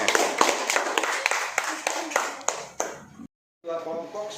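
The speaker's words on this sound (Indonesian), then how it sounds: "Beri aplaus lagi buat Rizky." A class applauding a student named Rizky in a school lesson, with dense, close hand clapping that fades out after about three seconds, then a brief voice.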